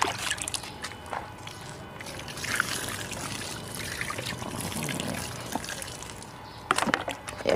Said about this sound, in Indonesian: kita siram satu gayung lagi.